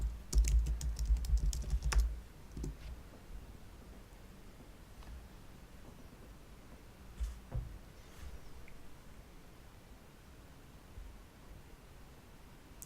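Rapid burst of computer keyboard key presses while entering a password during a software install, close and clear for about two seconds, followed by a few scattered isolated clicks over faint room hiss.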